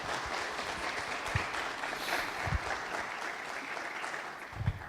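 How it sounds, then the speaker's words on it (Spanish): An audience at a video game conference session applauds the speaker Laura, continuous moderate clapping with a few sharp low thumps, heard somewhat distant in a large room. "démosle un aplauso muy grande a Laura que nos acompaña"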